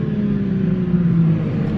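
The engine of a 2021 BMW G82 M4 runs with its exhaust valves open, giving a steady, deep, loud drone that holds at an even pitch without revving.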